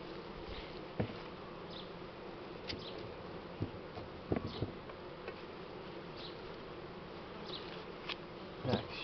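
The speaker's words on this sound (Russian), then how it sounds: "Это пчелка." Honey bees buzz around an opened hive during a honey harvest, a continuous droning hum with scattered clicks and knocks of handling, and no one speaking.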